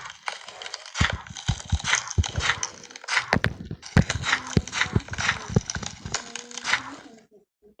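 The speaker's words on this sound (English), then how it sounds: "Yeah, crunchy slime." Wet, crackly squelching and popping noises come in bursts, close up, as soft, crunchy slime is squeezed and pressed repeatedly.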